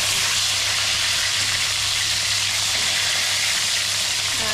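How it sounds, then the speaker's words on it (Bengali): Fish frying in a pan of hot oil for a fish curry with taro, giving a steady, dense sizzle and hiss that holds evenly throughout, close and fairly loud, with no talking. "আমি মাছটা উল্টে দিই, মাছটা একটু ভাজা হয়ে গেছে।"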